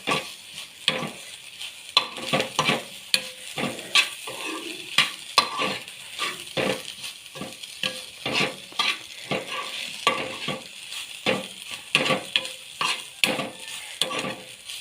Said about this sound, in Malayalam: ഒരിച്ചിരി ചുമന്ന നമ്മുടെ മുളക് പൊടി ഇട്ട് കൊടുക്കും എന്നിട്ട് നന്നായിട്ടൊന്ന് യോജിപ്പിക്കാം